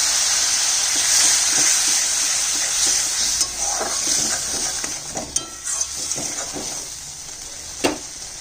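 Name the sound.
water added to frying mustard-spiced fish masala, sizzling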